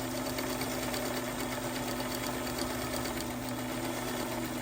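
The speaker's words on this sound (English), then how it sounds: "I'm just simply going to sew on the line starting there" A sewing machine runs steadily, stitching along a marked line on a quilt block with a constant close, even hum and no pauses.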